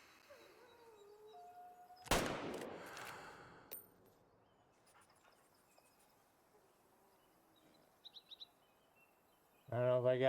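A single loud hunting rifle shot cracks out in Way of the Hunter 2, a sharp broadband blast with a short rolling echo that fades over about a second, set against quiet outdoor ambience with faint insects.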